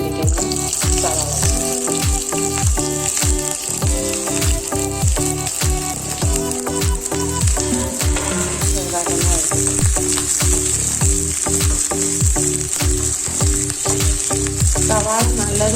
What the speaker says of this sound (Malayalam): ഈ ചൂടായ എണ്ണയിലേക്ക് നമുക്ക് അരിഞ്ഞു വെച്ചിരിക്കുന്ന സവാള